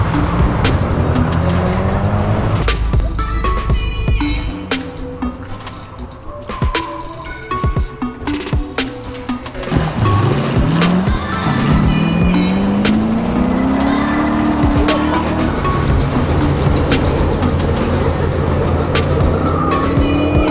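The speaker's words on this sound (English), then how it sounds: "Brandon in the RS up here, making some cool pops" A Ford Focus RS driving ahead in traffic on the way to an autocross event, its engine revving and rising in pitch with crackling exhaust pops, heard steadily and fairly loud throughout.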